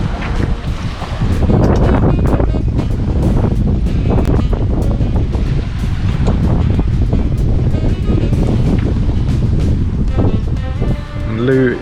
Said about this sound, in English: the wind's about 20 knots